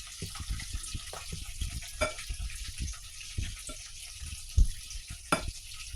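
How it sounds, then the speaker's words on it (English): A potato masher presses cooked potato into a dish to form a quiche crust, giving soft, irregular squishing thumps close by with a few sharper taps. "We're going to use the potato masher to do it and even the sides."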